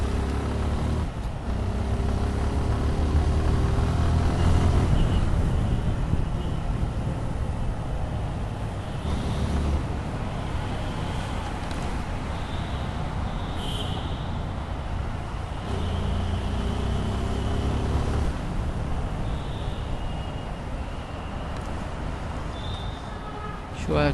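Motorcycle riding through slow, congested Dhaka traffic near the Intercontinental, a steady close engine drone with surrounding road noise and passing vehicles throughout.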